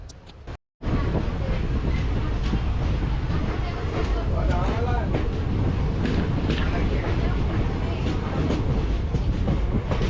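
A Kurnool to Guntur express train runs steadily, its loud continuous rumble and rail clatter filling the whole stretch after a brief cut near the start, with faint voices mixed under the noise.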